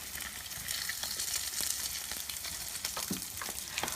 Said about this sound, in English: make sure you hold it in place and just deep fry it